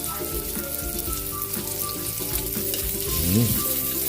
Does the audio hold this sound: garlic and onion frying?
yes